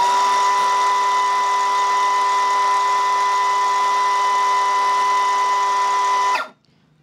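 An INGCO CSLI1651 cordless circular saw runs freely with no cut, a loud, steady high-pitched whine held for over six seconds before the motor is switched off and the sound drops away abruptly.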